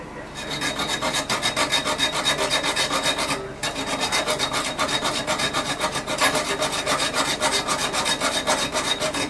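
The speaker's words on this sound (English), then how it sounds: "I'm just going to hack just above the nut and hack through and then get that bolt out of there" A hacksaw blade cuts back and forth through a metal toilet bolt just above its nut, giving close, loud, steady rasping strokes in a quick even rhythm with one brief pause partway through.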